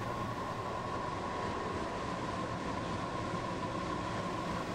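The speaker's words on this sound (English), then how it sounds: "Stop the train!" A commuter train runs with a steady low rumble and a faint sustained hum, constant and moderately quiet throughout with no voices.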